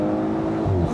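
An Audi S5 Cabriolet with a V6 accelerates, its steady engine drone strong and close, with a deeper surge building near the end of the short burst.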